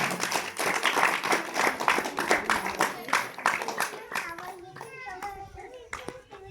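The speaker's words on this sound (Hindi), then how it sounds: "हालेलुया, जोरदार ताली हो जाए।" Rhythmic group hand clapping at an evening Christian prayer meeting, steady beats for about four seconds that then thin out as voices, including children's, talk and call out over the fading claps.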